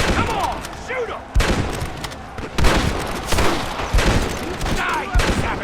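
A Red Dead Redemption battle with soldiers fighting off attackers: dense, overlapping rifle and pistol fire crackling continuously, loud and close, with shouted voices mixed in.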